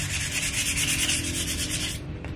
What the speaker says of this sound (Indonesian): Jadi hanya diamplas saja gitu untuk hilangkan karatnya aja